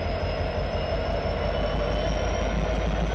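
A Norfolk Southern locomotive idles at Binghamton terminal, a steady loud diesel rumble with a constant high whine over it, unbroken and close throughout.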